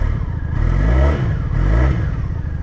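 A carbureted Honda Magna 750 cruiser motorcycle engine running just after a cold start, a steady, close, loud rumble that swells twice as if briefly blipped, with no talking.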